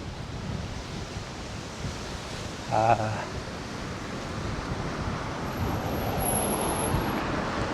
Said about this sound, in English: this is the windiest day so far